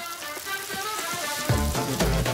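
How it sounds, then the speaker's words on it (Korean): Pen shell clams grilling in butter at a restaurant, sizzling and crackling steadily with a bright, spitting frying hiss and a few louder pops near the end, heard alone. "먼저 지글지글 버터향 솔솔 나는 구이부터 시작해볼까요?"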